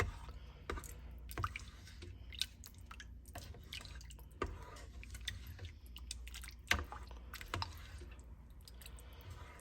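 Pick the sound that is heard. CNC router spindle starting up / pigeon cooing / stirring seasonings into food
stirring seasonings into food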